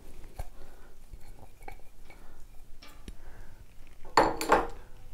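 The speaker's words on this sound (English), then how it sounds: "we're going to add our onion" Chopped onion tipped onto shredded cabbage in a bowl, soft scattered clinks and faint rustling, then a brief louder clattering tumble near the end, close and quiet.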